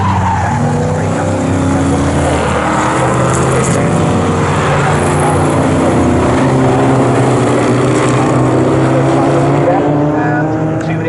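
Morgan sports cars racing at Snetterton circuit, a loud continuous roar of engines with overlapping revving and tire noise throughout, a commentator talking beneath it.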